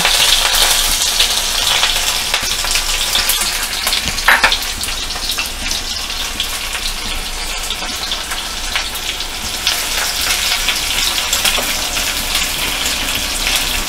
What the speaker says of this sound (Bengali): পেঁয়াজটা একটু হালকা সোনালি করে ভাজা করে নিতে হবে।